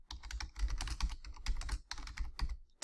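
Quick keystrokes on a computer keyboard while data is entered into an Excel spreadsheet, arriving in uneven bursts of close, crisp clicks and thumps with short pauses between them.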